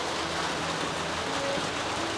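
Steady rain pours down outdoors on a morning, a dense even hiss of falling water with no pauses, fairly close and continuous throughout.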